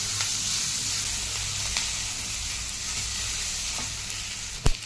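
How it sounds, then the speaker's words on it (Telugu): Onions fry in a pan for soya chunk manchurian, a dense continuous sizzle with faint stirring and a sharp knock just before the end. "ఆనియన్స్, వేసి ఫ్రై చేయాలి బాగా"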